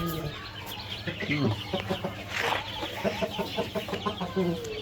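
Fayoumi and Tiger chickens cluck at a poultry sale pen, with a continuous chorus of close clucks and short calls over a noisy background.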